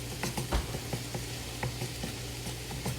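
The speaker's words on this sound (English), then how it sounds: "we're just gonna go ahead and just saute our garlic here just for a second" Garlic sautés in a pan with a soft, steady sizzle, broken by light clicks and taps of stirring, quiet and close with no talking.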